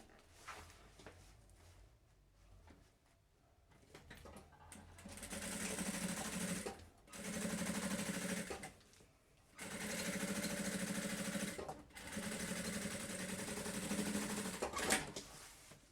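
A sewing machine topstitches a thermal lunch bag in several steady bursts of whirring stitching, separated by short pauses, close and fairly loud with no talk.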